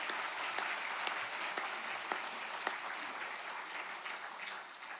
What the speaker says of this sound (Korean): 우리 격려의 박수 보내겠습니다.